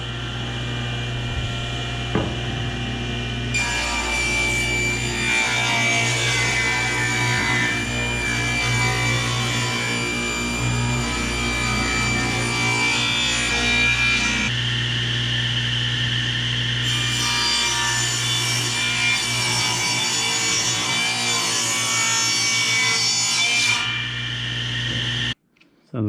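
Steady back-and-forth sawing through wood boards, a continuous rasping hum with a motor-like drone underneath, close and loud for a long stretch.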